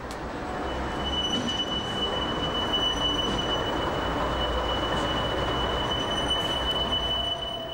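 Two Blue Tiger Class 250 diesel locomotives of the Osthavelländische Eisenbahn haul a heavy freight train. A continuous rolling rumble runs throughout, with a thin, sustained wheel squeal riding above it and no voices.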